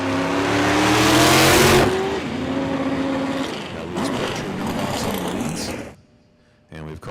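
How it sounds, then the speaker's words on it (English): A no-prep drag race car roars on a test run at Ozark Raceway Park, a loud launch whose engine note climbs and then drones on as the car pulls away, fading out near the end before a brief return of noise. "here's Kurt going for a test run"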